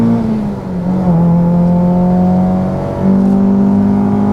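A Honda Civic EK hatchback with a Type-R engine swap pulls hard under acceleration, its loud, steady engine note rising and holding, heard up close with no talking.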